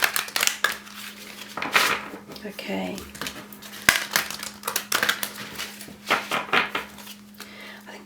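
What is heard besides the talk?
shuffling tarot cards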